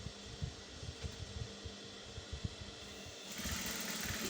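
A sewing machine stitching a shirt dress yoke runs in a steady, rapid mechanical chatter at close range, with no talk, then shifts to a smoother, brighter whirr near the end.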